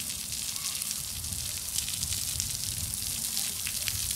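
Playground sprinklers at a park in Sunnyvale, California, spray water in a steady, close hiss of fine droplets, continuous and fairly quiet with no talk.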